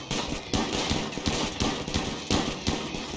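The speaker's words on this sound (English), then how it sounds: "A lot of gunfire because it's really fast" Rapid, dense bursts of gunfire in the video game RimWorld crackle continuously, with sharp repeated shots and heavier thumps layered over a steady busy background.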